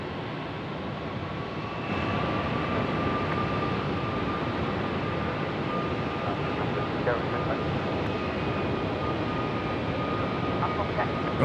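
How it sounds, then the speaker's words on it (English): A Boeing 737 MAX 8 jet rolling for takeoff on runway 34 at Melbourne, a steady, broad engine roar heard from a distance that holds constant throughout. "Right, the Max 8 rolling, runway 34."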